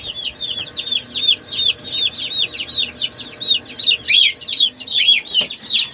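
A group of chicks peep and chirp constantly in the cold, with soft clucking mixed in, all close and fairly loud, with no talk.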